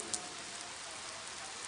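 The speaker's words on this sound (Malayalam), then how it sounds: "മുടിഞ്ഞ മഴയും തണുപ്പും" Steady rain falls on a surface during a cold, wet night, a constant even hiss throughout, with one brief click near the start and no voices.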